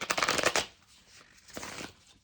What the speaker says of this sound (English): I'm gonna do a shuffle